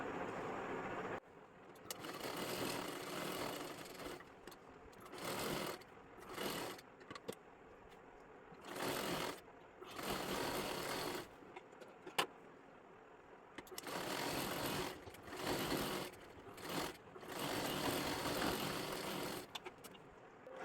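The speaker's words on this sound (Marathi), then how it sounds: "आणि एकदम कडेकडेला एक शिलाई मारून घ्यायची आहे" A sewing machine stitches along the edge of a blouse in a series of steady whirring runs of varying length, close and fairly loud, separated by brief pauses, with no talk.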